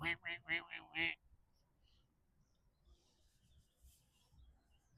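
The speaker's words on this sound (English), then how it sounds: "The ducks will be around in a minute for it" Ducks quack in a quick burst of four or five loud calls by a fishing spot, then fall away to quiet background rustle.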